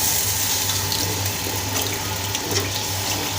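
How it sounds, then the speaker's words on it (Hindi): Water from a glass pours steadily into a cooking pot while moong dal pakoras are being prepared, a continuous close splashing and running-water sound that stays even throughout, with no talking. "ये पानी डाल रही हूँ अपनी मर्ज़ी से"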